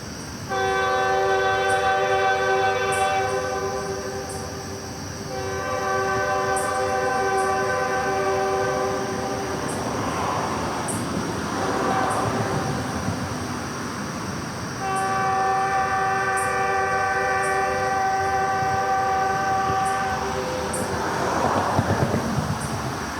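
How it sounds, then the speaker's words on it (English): A train rolls by far off at night, its horn sounding in long sustained blasts twice, separated by a stretch of rumbling wheels and a faint rhythmic clicking. "love the sound of trains"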